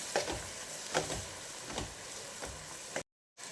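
Masala sizzles steadily in hot oil for a Rayalaseema-style fish curry, with soft stirring scrapes recurring through the continuous frying hiss, followed by a brief cut to silence near the end.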